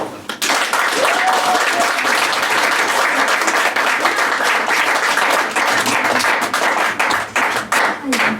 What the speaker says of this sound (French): Il vous suffit d'applaudir et ils applaudiront avec vous.